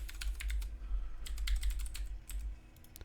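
Typing on a computer keyboard, a quick run of light clicking keystrokes in clusters, close and clear over a low background hum, no talking.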